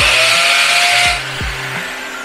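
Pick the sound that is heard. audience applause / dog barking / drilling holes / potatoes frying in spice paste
drilling holes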